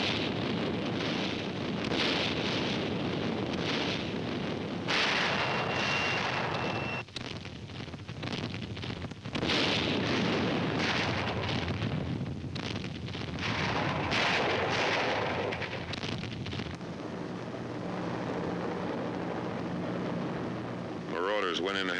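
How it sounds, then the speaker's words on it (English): Naval bombardment during the D-Day invasion, a continuous dense rumble of artillery fire with heavy booming bursts, loud and sustained throughout, with wind-like noise and a narrating voice over it. "The naval bombardment continues."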